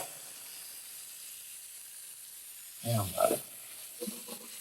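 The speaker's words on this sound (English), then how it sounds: "So I'll toss the pork now in the garlic and oil" Pork sizzles in garlic and peanut oil as a soft, steady hiss, with a brief louder burst of spattering and stirring near the end and someone speaking quietly at moments.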